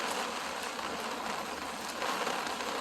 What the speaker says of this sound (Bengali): ভালো একটা বৃষ্টি হইতেছে দর্শক